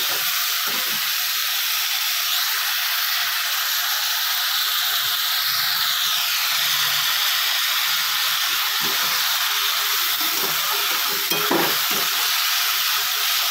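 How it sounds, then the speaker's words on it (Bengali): Onions frying in hot oil for a vegetable chow mein, a steady dense sizzle with occasional stirring clicks, close and continuous throughout. "আমার তেল গরম হয়ে গেছে, পেঁয়াজ দেবো।"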